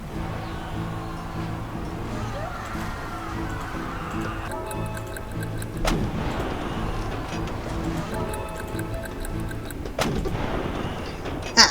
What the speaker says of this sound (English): Cannon tears through the creature's glowing core